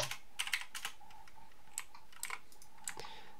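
Keys tapped on a computer keyboard in quick, uneven bursts, crisp and close, with short pauses between clusters of strokes and no voices.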